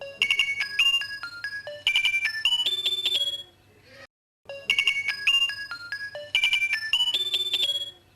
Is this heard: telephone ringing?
yes